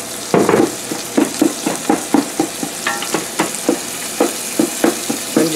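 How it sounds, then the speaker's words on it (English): Ground meat sizzles and fries in oil in a pan for chili, with a steady crackle beneath repeated scraping strokes of a wooden flat-edged spatula breaking up the pieces, close and fairly loud. "you need to put oil into your meat when you're frying it"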